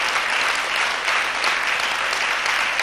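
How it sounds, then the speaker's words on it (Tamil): Continuous, even applause from a church congregation during a Tamil sermon, a full, close wash of many hands clapping with no talk over it. "அப்படியா இருந்தா ஆண்டவருக்கு ஒரு கரகோஷத்தை கொடுப்போமா?"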